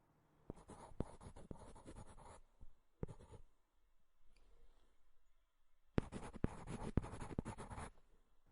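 A pen writes on paper in close, scratchy strokes, with two long bursts of writing separated by a short stroke and then a quiet pause.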